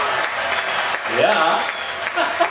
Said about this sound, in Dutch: Het applaus gaat wel heel lang door